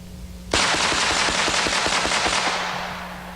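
A Mech Tech 460 Rowland conversion fires a fast, close string of about ten sharp shots that begin abruptly, with the ringing echo fading afterward.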